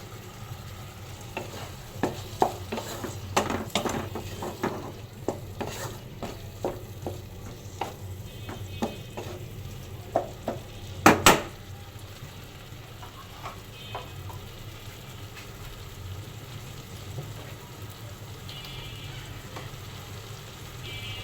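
Small shrimp fry in a spiced masala while a spoon stirs and scrapes the pan in bursts of clinks over a steady low sizzle. The stirring fades after the first half, leaving a quieter continuous frying with no voices.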